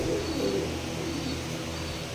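Fancy pigeons coo inside a home loft, a low, throaty murmur that is loudest at the start and continues at a steady level over a continuous background hum.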